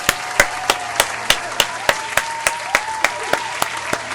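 A single person clapping in a sharp, evenly spaced rhythm, about three claps per second, loud and close over a faint steady background tone at a comedy show.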